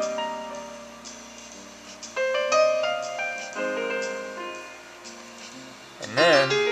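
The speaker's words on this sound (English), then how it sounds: "one of the things I did was set up one of the basic ringtones on here" A basic ringtone from a Cisco 7985G IP phone: a sequence of clear electronic melodic tones stepping through several notes at moderate volume, ending in a brief louder swooping sound.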